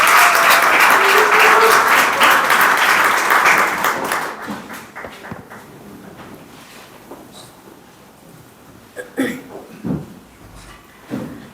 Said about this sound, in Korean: 큰 박수 맞으시면 감사하겠습니다.